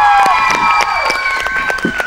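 A studio audience at a comedy show breaks into steady clapping and cheering, a dense, loud wash of applause with music tones running over it.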